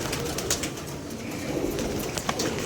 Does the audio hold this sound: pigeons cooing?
yes